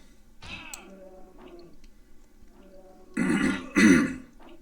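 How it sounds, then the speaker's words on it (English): A couple of short vocal sounds, then two loud, harsh throat-clearing bursts close to the microphone, one right after the other. "Excuse me, I'm clearing my throat."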